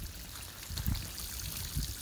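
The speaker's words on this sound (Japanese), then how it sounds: "水の音が涼しげでいいですよね" Water trickles and flows softly and continuously down a long homemade bamboo nagashi somen slide on a Hokkaido farm, heard faint and close with occasional small splashes.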